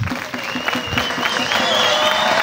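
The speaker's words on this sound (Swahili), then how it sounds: "Makofi mengi sana kwa mama." An audience claps at a sports talent event in Mbinga, producing a dense, continuous patter of applause while voices rise and a high whistle-like tone sounds over it.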